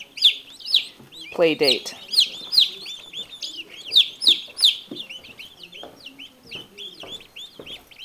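Chicks and turkey poults peep and cluck in repeated bright bursts close by, with brief talk over them.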